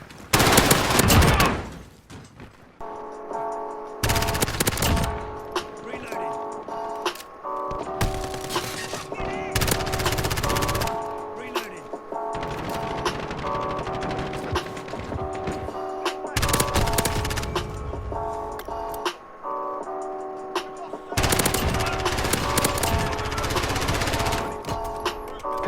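M4 assault rifle in a multiplayer shooter, fired in repeated loud automatic bursts separated by short pauses, with game music and ambient tones running underneath.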